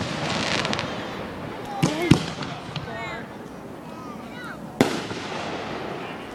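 Fireworks at a 2013 show burst at a distance, a few sharp cracks and booms standing out against crackling and a steady rumble of the display, with people talking nearby.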